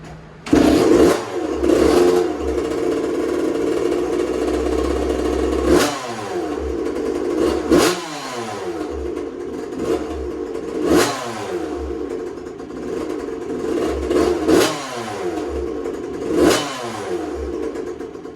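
A 2001 Suzuki RM 85 two-stroke dirt bike engine warms up, revving up and down in repeated sharp bursts over a steady idle, loud and close with no talk.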